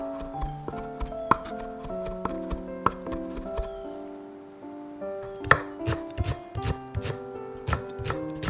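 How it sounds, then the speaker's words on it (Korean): A knife chops radish, shiitake mushrooms and kelp on a board for taro soup, with steady, close, crisp strikes in an irregular rhythm over soft background music. "할 일을 다한 무와 표고버섯, 다시마도 썰어 같이 넣으면"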